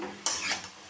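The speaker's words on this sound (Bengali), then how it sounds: "এখন আমি নুনটাকে ভালো করে মিশিয়ে নেব" Metal utensil clinks and scrapes against a cooking pan while salt is stirred into spinach, one sharp knock followed by a brief scraping stir, close and fairly clear.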